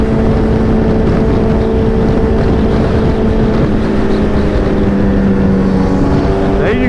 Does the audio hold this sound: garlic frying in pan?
no